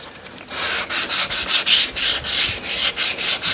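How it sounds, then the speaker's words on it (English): Sandpaper rubbed by hand along the edges of a 2014 Subaru G4 rear bumper makes a close, loud rasping in quick regular back-and-forth strokes, about a dozen in a row, with no talking. "In order to get the edges, we'll take the sandpaper off and"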